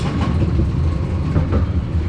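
A Cosmic Typhoon roller coaster train at an outdoor adventure park rumbles and rattles along its track in a steady, loud roar, heard up close with no voices.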